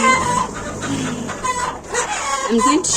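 Chickens cluck loudly and close by on a farm in the Kenyan countryside, with overlapping rising calls and busy clucking throughout.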